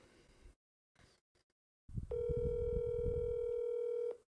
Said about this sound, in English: Hold up, I'm giving him one more ring.